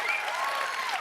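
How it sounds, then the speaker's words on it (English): A large E3 Coliseum audience cheers and claps in a sustained, dense wash of crowd noise, with a faint whistle or voice rising above it. "Everybody, cheer if you want Jack Black to play a game."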